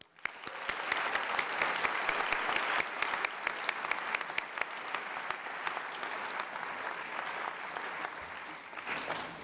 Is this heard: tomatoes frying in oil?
no